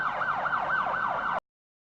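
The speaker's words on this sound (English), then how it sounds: "Police car." A police car siren from a children's vehicle cartoon wails in fast, even up-and-down sweeps, close and clear, then cuts off abruptly after about a second and a half.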